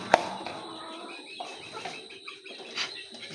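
Aseel chickens and roosters peck at rice, with soft clucks, scratching and faint calls close by; one sharp tap stands out near the start, and a quiet voice can be heard in the background.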